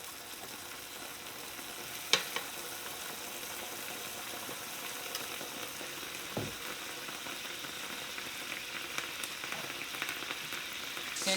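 Carnitas pork fries in hot lard: a steady, loud sizzle and crackle throughout, broken by a few faint clicks and scrapes, with no talk.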